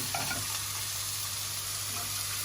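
Fish with broccoli sizzles steadily in a hot pan, a dense continuous crackle with faint stirring and a low background hum, no one talking.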